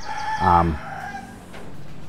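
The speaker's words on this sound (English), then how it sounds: "of course, I'm in the Philippines, so you can't do anything without a rooster going off" A rooster in the Philippines crows once, a short, fairly loud cock-a-doodle-doo over low background noise and no talking.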